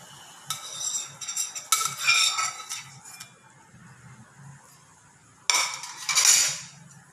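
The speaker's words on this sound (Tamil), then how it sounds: "தோசையை திருப்பி போட்டிருக்கேன், கொஞ்சம் வேகட்டுன்னு எடுத்துக்கலாம்." Sprouted green gram dosa cooking on a pan: bursts of spatula scraping and clinking against the pan stand out over a soft sizzle, with quiet gaps between them and no talk.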